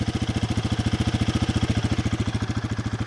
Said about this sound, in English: It's got quite a nice rumble from that exhaust.